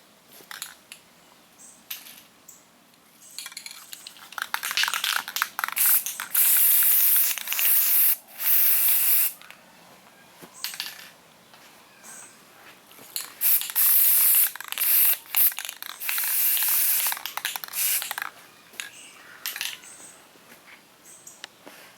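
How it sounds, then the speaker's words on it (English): Bursts of flat black aerosol spray paint lightly misted onto fiberglass A-pillar speaker pods, hissing in short, repeated passes with brief pauses between, close by, and no talking. "What I'm gonna use some flat black spray paint in the aerosol can."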